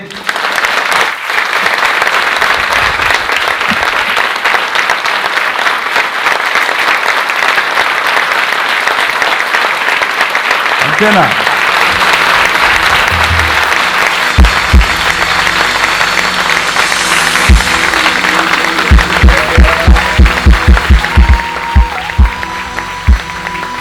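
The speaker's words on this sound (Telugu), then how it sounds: "సంతోషంగా ఉన్నవాళ్ళు చప్పట్లు కొట్టండి" A church congregation claps together in sustained, loud applause, then the clapping becomes sparser with distinct individual claps, and a voice speaks briefly over it.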